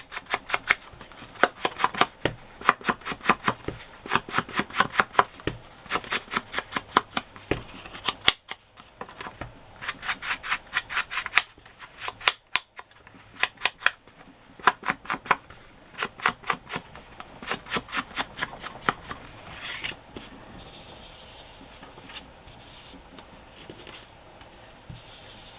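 Scissors snip through felt in steady rapid runs of close, crisp cuts, pausing briefly between batches, heard alone with no talking.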